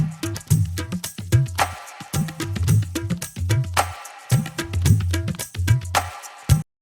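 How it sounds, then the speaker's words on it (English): Tabla and dholak loops layered with shakers and hand claps form a repeating percussion groove, deep drum strokes under bright jangling shaker and sharp claps, loud and steady with brief gaps between bars. "Sounds beautiful with the shakers and the hand claps."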